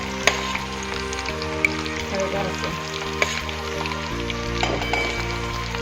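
Chicken 65 pieces deep-frying in hot oil, a continuous loud sizzle and bubbling close by with a low background hum, without speech.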